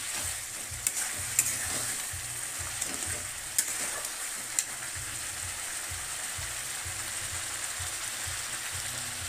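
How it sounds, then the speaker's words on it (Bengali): Goat mutton (khasi) sautéing in a pan, a steady moderate sizzle under rhythmic scraping strokes of a spatula, with a few sharper clinks in the first half and no speech. "তো কষাতেই মাংসটা ভালো হয়। যত কষাবে তত ভালো হয়।"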